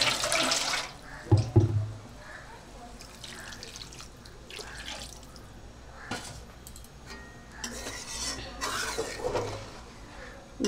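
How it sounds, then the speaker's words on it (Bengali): Turmeric water poured into a pan of tilapia and potato curry, with splashing liquid strongest at the start and intermittent trickles and spatters continuing afterward, moderately close. "জল আর একটু জল দেব, কারণ মাছটা একটু জাল হবে তো।"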